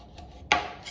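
Knife cutting through pork meat: one sharp, close chop lands midway, preceded by faint scraping and followed by a brief softer cut. No talking is heard.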